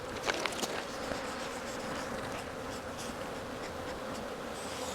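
Honey bees in a Jacksonville, Florida apiary give off a dense, continuous buzzing drone, with a few sharper close passes near the start and no talking.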